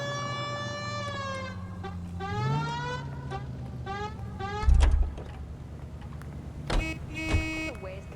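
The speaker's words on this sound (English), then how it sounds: "Hit the siren." A wailing police car siren in the video game L.A. Noire rises and falls amid engine hum and a few sharp thumps, with other sirens and horn-like tones layered in the background.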